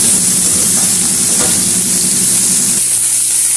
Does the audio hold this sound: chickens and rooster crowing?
no